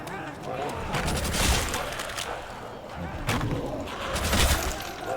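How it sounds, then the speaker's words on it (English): Zombie groans and growls from Call of Duty: World at War Zombies, Night of the Living Dead map, layered with bursts of gunfire and chaotic noise, moderately loud throughout. "All these sounds you're hearing, all these zombie sounds"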